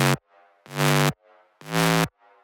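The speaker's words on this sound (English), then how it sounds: "what that does with the distortion on that AC hum 1 sound, it makes it way grittier" Synth notes layered with a distorted, gritty AC hum noise, three loud sustained hits separated by faint decaying tails, with no talking.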